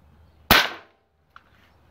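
A single sharp crack from an Avenger .25 caliber airgun firing a 30.8 grain Barracuda pellet, close and fairly loud, followed less than a second later by a faint tick of the pellet striking.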